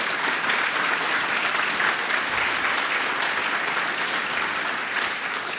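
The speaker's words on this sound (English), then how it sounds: "Please give a round of applause for our advisors." An audience at the Oxford Foundry 2019 demo day gives its advisors a round of applause, dense, sustained clapping from a sizable crowd filling the room at an even, loud level throughout.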